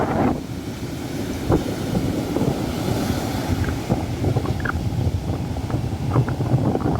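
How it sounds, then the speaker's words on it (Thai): Strong wind buffets the microphone while rough sea waves wash continuously onto Khanom beach, a loud, steady roar of surf and gusts. "แต่ว่าตอนนี้ คลื่นลมแรงมากนะครับ"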